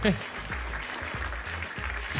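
Studio audience applause on an Armenian TV game show, a steady crowd clapping at moderate loudness that carries under a host's voice for the whole stretch.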